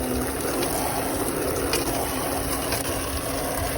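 Water from a garden hose rinses a truck, a steady, close rushing spray that runs unbroken and even throughout.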